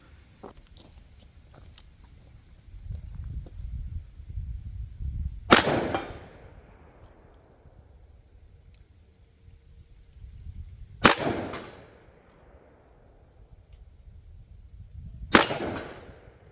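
Three sharp, loud revolver shots from a Taurus 605 Defender ring out several seconds apart, each a hard crack with a decaying echo, separated by quiet handling noise.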